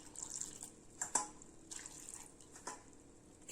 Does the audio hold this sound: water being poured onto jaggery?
yes